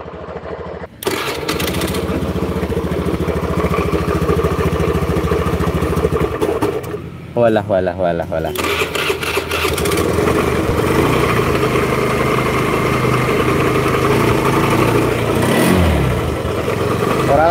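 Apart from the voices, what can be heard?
motorcycle engine starting and revving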